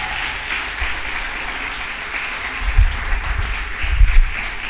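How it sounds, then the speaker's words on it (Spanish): A church congregation applauds during a sermon, a steady wash of many hands clapping at a distance. Low thumps rise toward the end, and nobody speaks. "Un aplauso al Señor"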